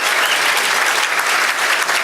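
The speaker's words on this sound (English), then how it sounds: "Please give them all a round of applause." Audience applause at the Chaldean American Chamber awards dinner: dense, steady clapping from a room full of guests, loud and continuous for two seconds.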